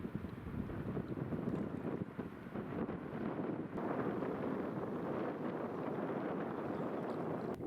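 Steady wind rushing and buffeting across an open microphone outdoors on a river, a continuous broadband roar with faint water movement beneath, no voices.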